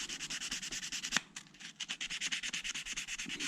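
Plastic seat belt buttons from a third-generation Firebird, Camaro or Trans Am being lightly scuffed smooth, a close, soft, rhythmic rubbing with one brief pause partway through.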